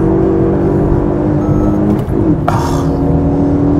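A Renault Megane Trophy runs hard on a race track, its engine holding a loud, steady droning note through a long corner, with a brief dip and a burst of tire or wind noise near the end.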